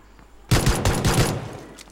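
Rapid video game gunfire during a friendly-fire match, a dense burst of loud overlapping shots lasting over a second and then tapering off.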